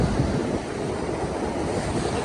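Strong ocean waves at Santa Rosa Beach, Florida, a loud, close, continuous surf roar with wind across the microphone and no talking.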